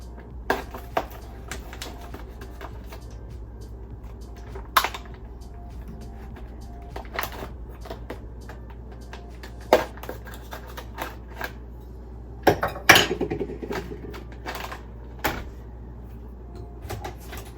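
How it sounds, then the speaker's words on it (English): A pasta package is opened with an ulu knife in a kitchen, producing scattered plastic crinkles, taps and small knocks at irregular intervals, close and moderately quiet. "I'll just open up the package. I normally use my ulu knife for everything"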